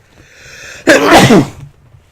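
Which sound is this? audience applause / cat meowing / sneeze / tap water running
sneeze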